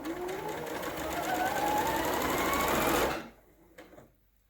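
A sewing machine stitches down the facing of a dress, a fast, loud, continuous whirring run that speeds up slightly, then stops abruptly, leaving a few faint clicks of handling.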